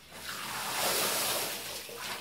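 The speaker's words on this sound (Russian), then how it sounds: "Давай, наверное, душ включим." Water from a shower runs in a bathroom, a broad hissing spray that swells to a louder rush in the middle and eases slightly toward the end, close by with no talking.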